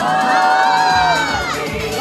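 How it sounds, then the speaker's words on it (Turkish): Children shouting and screaming together during a group party game at a children's animation event, a loud dense crowd of high voices throughout. "Aman Allah'ım çok fena bağırıyor bunlar."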